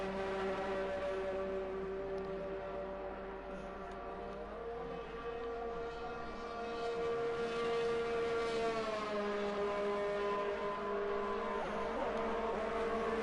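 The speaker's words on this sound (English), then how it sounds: "Now the cars start to go out on track" Race cars in a Japan-round racing video game head out on track, a steady droning engine tone with slowly shifting pitch as revs rise and fall, continuous and moderately loud throughout.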